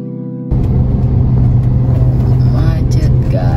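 Road traffic in a jam on a busy city street, a loud close engine rumble and drone that starts abruptly and holds steady, with voices talking over it.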